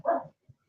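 A pet dog at home lets out one short, close bark, followed by a brief soft sound and then quiet.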